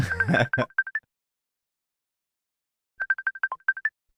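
A phone's outgoing call ringback plays as two short bursts of rapid electronic chirping tones, each lasting about a second and separated by silence, with a brief bit of speech just before the first burst.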